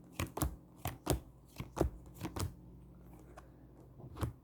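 Playing cards being dealt one by one onto a table, each landing with a sharp, close slap in an irregular but steady rhythm, and no one speaks.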